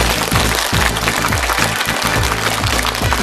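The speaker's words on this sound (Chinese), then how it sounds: "下面我们用掌声请上这本书的作者巴拉杰伊和他的外孙女姚娜，掌声欢迎" Dense audience applause welcoming guests onto the stage at a Chinese book-recommendation event, a steady, loud clatter of many hands with rhythmic beats underneath, no voices on top.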